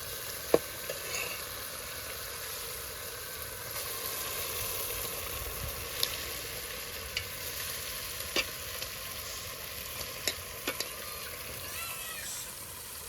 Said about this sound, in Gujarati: બાંગડા મચ્છીના પીસ હવે આમાં નાખી દેવાના છે